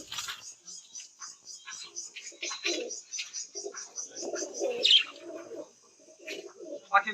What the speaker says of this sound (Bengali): পাখিগুলো বাজরিকার পাখি